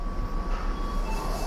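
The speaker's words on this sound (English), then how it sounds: "Here we are alighting the almost empty train at Shinjuku Station" An almost empty train at Shinjuku Station, Tokyo, gives a steady low rumble of rail noise with a faint high whine running through it, and no voices.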